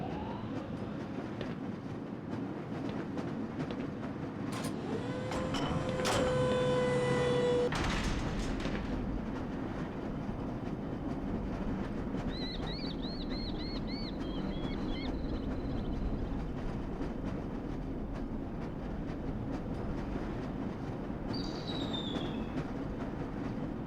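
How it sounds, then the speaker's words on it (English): A lever-controlled train rolls through the Black Mesa Hazard Course in Half-Life, giving a steady rumbling clatter throughout, with a brief metallic clanking squeal early on and faint warbling electronic tones later. "This lever-controlled train will transport you to a location where your training associates are waiting for you."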